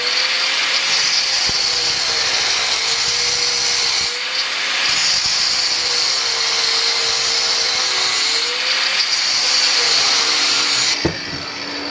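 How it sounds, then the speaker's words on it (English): An angle grinder fitted with a cutoff wheel cuts grooves into metal for a pallet pry bar, a loud steady high whine that holds throughout with slight pitch wavers and brief dips, alone with no talking. "I'm just going to take my angle grinder with the cutoff wheel,"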